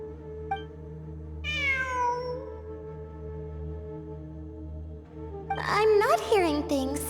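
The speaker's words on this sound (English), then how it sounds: "It really is a cat." Cat meowing in the video game Genshin Impact, one drawn-out meow and a later burst of higher cries over steady tonal game music.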